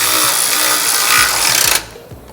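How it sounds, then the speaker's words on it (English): A power tool tightens rock slider bolts threaded into the frame of a third-generation Toyota Tacoma, a loud continuous whir with a rapid impacting chatter near the end before it cuts off abruptly. "The first bolts I'll tighten up are the ones that are threaded into the frame"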